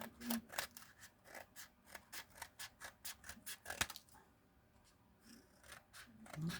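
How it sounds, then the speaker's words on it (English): Scissors snip through a thick wallet binder in a quick series of sharp, crisp cuts with short pauses between them, close and quiet, with no voices. "Just take my scissors."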